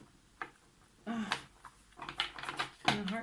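A deck of tarot cards is shuffled by hand, producing several short irregular bursts of riffling and flicking at close range, separated by quieter pauses, with faint room noise between them.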